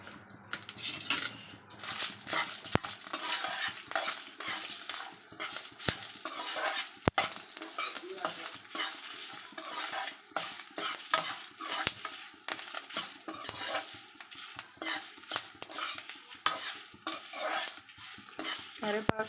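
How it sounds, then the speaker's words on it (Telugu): Dried red chillies go into hot oil for a curry leaf chutney, with the soft crackle of frying under steady clinking and scraping of a spoon against the pan, close and continuous, and no voices. "కొంచెం వేడెక్కిన తర్వాత ఈ ఎండుమిరపకాయలు అన్నీ వేసేయాలి"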